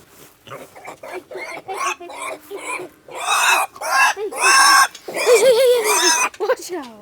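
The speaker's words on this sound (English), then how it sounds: "let's go get the pigs" Kune Kune pigs grunt, oink and squeal loudly nearby in a busy, irregular run of calls, with a person's voice mixed in among them.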